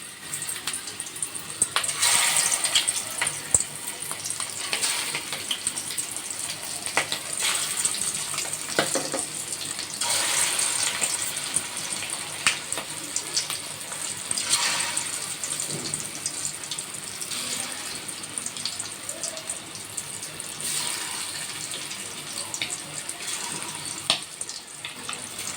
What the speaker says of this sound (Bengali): এখন মাছগুলো আমি ভেজে নেব